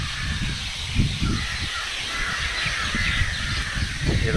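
Crows caw intermittently in the distance over a steady wind-like hiss, the calls faint and scattered.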